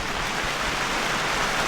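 Heavy storm rain pounds on a camping tent, a dense, even hiss of drops that stays loud and unbroken throughout the short stretch.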